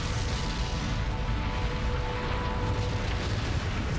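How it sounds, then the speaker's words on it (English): Explosions ripping through a city sewer system in Guadalajara come through as a sustained, loud, deep rumbling roar with dense low-end bursts that carries on steadily without pause. "a series of explosions ripped through the sewer system, devastating nearly 5 miles of the city's streets"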